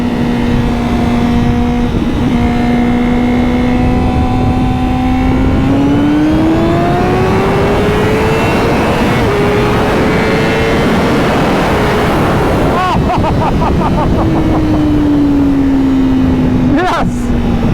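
A Honda CBR 1000RR-R Fireblade SP pulls hard in second gear, its loud engine note rising steadily and holding high, then falling away as the bike eases off, with wind rush throughout.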